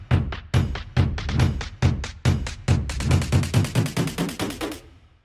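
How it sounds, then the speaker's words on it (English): Snare roll loop from a sample pack, part of a future bass build-up, with sharp hits that start spaced apart and then speed up into a dense, accelerating roll before cutting off. "I also want to add like a little snare roll to this build-up."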